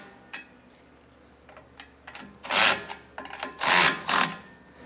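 Hardware being tightened on a Roadmaster Exact Center steering stabilizer for a 2024 Jayco, heard as scattered clicks and two longer broadband ratcheting bursts that come close and fairly loud, with no talk.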